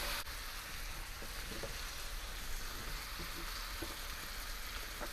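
Food sizzles in a skillet, a soft, steady frying hiss with faint crackles, low and close, with no talking.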